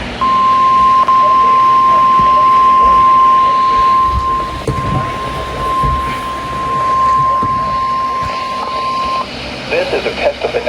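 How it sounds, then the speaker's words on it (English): NOAA weather radio warning alarm tone sounding as a long steady beep during the weekly test for the central highlands of Ohio, loud and continuous for about eight seconds over background noise and some talk. "This is a test of the National Weather Service weather radio warning alarm"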